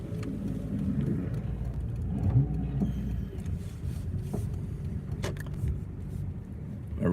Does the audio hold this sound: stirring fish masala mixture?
no